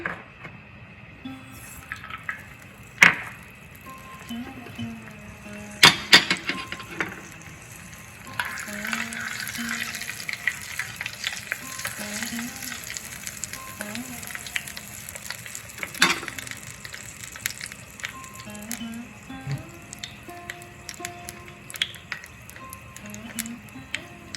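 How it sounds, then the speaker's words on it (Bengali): Mustard seeds sputter and pop in hot ghee mixed with oil, a steady near sizzle broken by sharp crackles and occasional stirring scrapes, with soft talk in the background. "ঘি দিয়েছি হাফের কম বাকিটা তেল এখন আমি সর্ষে ফোড়ন দিচ্ছি"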